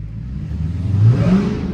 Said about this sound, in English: I just did a burnout and I didn't even hit the brake, bro.